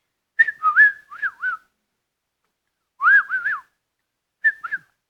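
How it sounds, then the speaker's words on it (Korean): A person whistles short melodic phrases, three bursts of warbling, sliding notes separated by pauses, clear and close with no talking. "휘파람 제가 어제 연습했어요."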